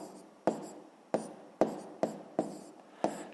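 Pen or pencil strokes on paper while a math solution is written by hand, six short scratchy taps and scrawls at a steady pace, close and quiet with no talk.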